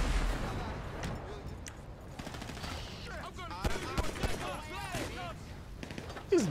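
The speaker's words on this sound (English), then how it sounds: "lots of explosions though" Gunfire and explosions in GTA Online combat: dense rapid automatic bursts and sharp impacts under continuous game noise, with several louder blasts standing out near the end, and a voice briefly speaking over the chaos.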